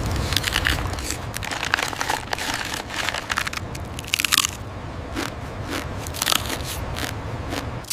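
Crunchy fried bamboo worm crisps are bitten and chewed close to the microphone, a dense run of loud, brittle cracks and crackles with sharper bursts throughout.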